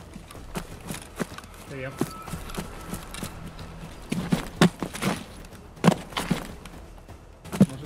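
Footsteps in Escape from Tarkov, an irregular series of soft thuds and scuffs at moderate distance, heard beneath people talking over voice chat.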